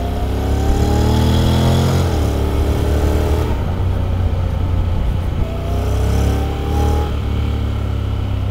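A 2023 Honda Forza 750 scooter engine drones loudly during a test ride, revving up and easing off with shifting pitch under steady road and wind noise.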